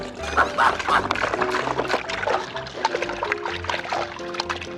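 Boiled stone octopus rinsed under plain water, a trickling, splashing stream with uneven bursts and clatter close by, moderately loud and alone without talk.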